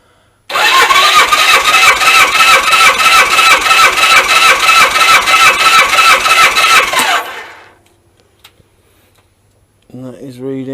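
A Suzuki GS1000 motorcycle engine held at full throttle, a loud, steady, pulsing roar for about seven seconds before it drops off to near silence, followed by a brief voice at the end.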